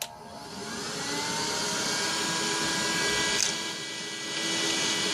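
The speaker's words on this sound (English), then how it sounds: "today we're taking a look at this little vacuum by JACO" A JACO JSP-023 VacPro handheld cordless vacuum cleaner runs close by with a steady high-pitched motor whine and airy suction hiss, holding constant throughout with a brief rattle near the middle.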